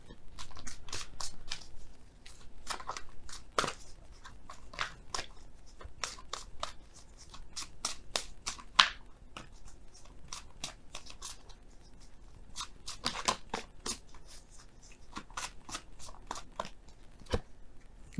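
A deck of oracle cards is handled and shuffled in an 18-second run of soft, quiet crisp flicks and riffles, with scattered sharper snaps against a faint background and no voices.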